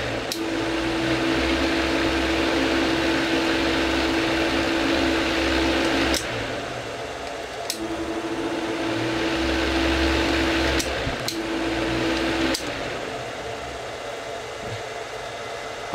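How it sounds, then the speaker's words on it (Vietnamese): A household electric fan of about 45–47 W, powered through a 12V-to-220V 1200W inverter, whirs steadily with a constant hum and airy hiss, briefly dropping and returning several times, alone without speech. "Vâng, như vậy là vẫn quay quạt đấy nhá."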